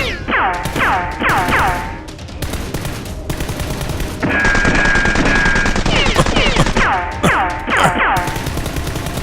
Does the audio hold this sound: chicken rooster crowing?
no